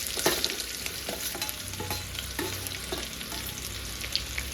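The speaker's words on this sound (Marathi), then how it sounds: "लालसर कांद्याला भाजून घेऊया आपण." Chopped onion fries in a pan with cumin, curry leaves and bay leaf for a homemade egg curry, giving a soft continuous sizzle broken by occasional scrapes and clinks of a stirring spoon.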